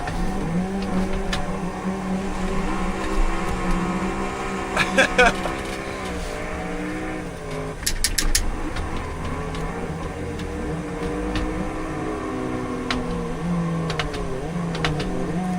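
Cars drifting in BeamNG with tires smoking, engines revving and wailing at changing pitch along the track, with occasional sharp bursts over continuous engine drone and people talking underneath.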